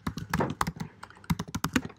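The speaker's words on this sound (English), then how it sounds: "I'm just gonna type in Journey Girls" Quick, close typing on a computer keyboard while entering a search, with a brisk irregular patter of key taps and a few heavier thunks.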